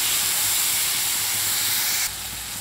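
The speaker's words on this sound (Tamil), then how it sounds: "நல்லா கிளறி விடுங்க." Onions and chopped tomatoes fry in a pan as they are stirred, giving a steady loud sizzling hiss that drops slightly near the end.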